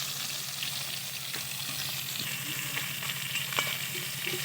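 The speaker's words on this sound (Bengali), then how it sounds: "দেখো কতটা সুন্দরভাবে ভেজে নিচ্ছি" Chela fish frying in hot oil in a pan, a steady close sizzle with bubbling crackle and occasional light stirring sounds, continuous with no talking.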